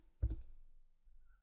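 A couple of quick clicks from keys on a computer keyboard as a number is typed, close and brief, then near silence.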